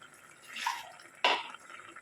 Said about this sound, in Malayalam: ആവശ്യത്തിന് വെള്ളം ചേർത്ത് കൊടുക്കാം.